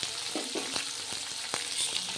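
Bitter gourd frying in hot oil gives a steady close sizzle, broken by soft scrapes and taps of a spatula being stirred through the pan.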